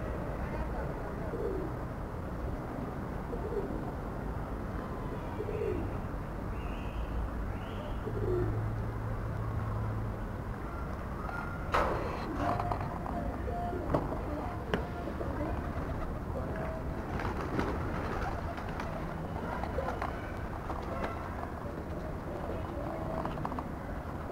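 Pigeons coo intermittently outdoors where flying birds are released, soft low calls under constant wind-like background noise and occasional distant talk.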